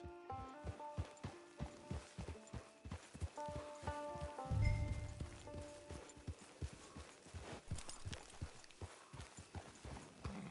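Horse hooves clip-clop at a steady walking pace on a trail in the Red Dead Redemption 2 game, the footfalls close and regular, with tonal in-game music running underneath.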